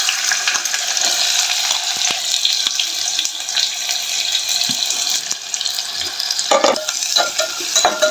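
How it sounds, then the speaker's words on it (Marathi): Chopped onion frying in hot oil in a home kitchen, a steady close hiss and sizzle that runs throughout, with a few scraping stirs and clinks near the end. "हा तेल गरम झालेला आहे. त्याच्यात कांदा टाकून घेते."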